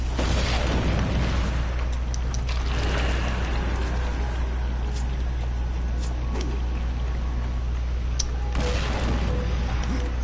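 A deep rumbling bomb blast in the Darksiders 2 video game, heavy sustained low boom with debris crackle, loud and close, a few sharp pops later.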